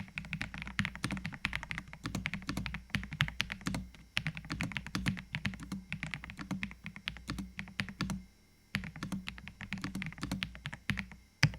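Typing on an AJAZZ AK870 Pro keyboard with linear switches: rapid, close-up clacky keystrokes in uneven bursts, a brief pause near the end before another run of keys.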